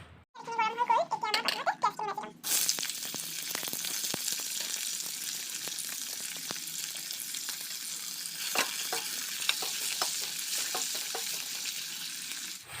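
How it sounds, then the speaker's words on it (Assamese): Onions frying in oil left over from frying potatoes, a steady close sizzle with scattered stirring clicks. It runs continuously after a brief opening of other sound, with no talking over it. "এয়া মোৰ পিঁয়াজখিনিও ভাজি ৰংচোৱা হৈ গ'ল"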